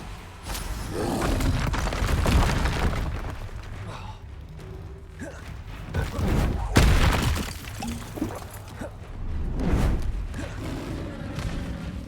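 Booming blasts of the Bombarda spell in Hogwarts Legacy, several heavy explosions with shattering debris and rumbling tails, loud and close, with a voice speaking between them.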